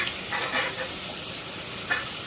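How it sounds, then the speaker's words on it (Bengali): Rohu fish curry masala sautéing in a pan gives a soft steady sizzle, with a few brief scraping stirs of the spatula, close and alone without talk. "এখন কত সুন্দর করে কষাই নিচ্ছি"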